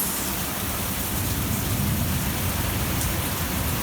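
Rain falls steadily over a garden with bell peppers, succulents, cacti, aloe and avocado trees, a constant broad wash of patter that stays level throughout, with no talk.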